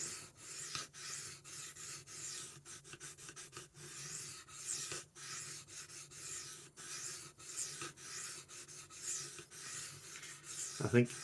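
A knife is sharpened on rough new stones to raise a burr, giving repeated quiet scraping and rubbing strokes in an irregular rhythm, close but soft, with a louder scrape near the end.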